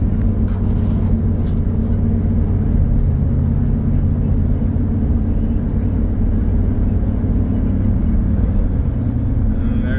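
A 2004 Ford Excursion drives along, its engine and road noise forming a loud, steady low rumble that holds evenly throughout with no voices.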